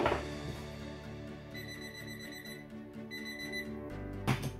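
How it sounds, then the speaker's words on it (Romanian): A PulseDive Scuba underwater metal detector set to maximum sensitivity, level 5, gives a long, steady electronic beep. Two sustained high tones sound one after the other over a constant low background hum, with no talking. "când a ajuns la capăt la nivelul maxim, nivelul 5, va da un bip lung"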